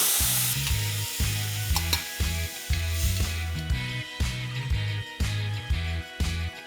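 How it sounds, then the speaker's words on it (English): Pureed tomatoes go into hot oil with ajwain and give a close, steady sizzle, punctuated by a regular series of low mechanical clunks throughout. No voices are heard. "let's heat 2 tablespoons of oil and splutter some ajwain, about a 1/4 teaspoon. And we'll immediately add 3 tomatoes that are pureed."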